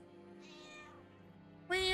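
A cat meows in the hidden-object game Town Terrors 2: Pilgrim's Hook, a soft drawn-out mew followed by a louder, brighter sound at the end.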